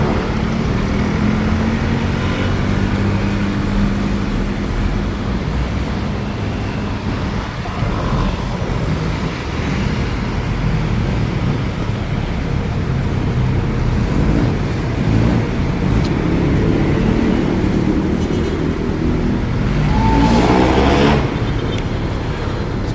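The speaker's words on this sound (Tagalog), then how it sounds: "Talaga ng traffic." Road traffic rumbles continuously nearby, a dense wash of engine and tyre noise with passing vehicles swelling and fading, recorded while walking outdoors.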